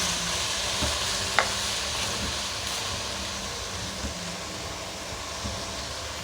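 Keema fries with spices in a pan, giving a steady close sizzle broken by a few clinks and stirring scrapes. The level holds constant and no one talks.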